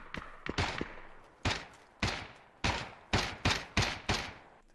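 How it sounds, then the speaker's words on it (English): Close gunfire in PUBG: a few rapid shots, then single loud cracks spaced about half a second apart, each with a short decaying tail, and no talking. "These gunshots are well close."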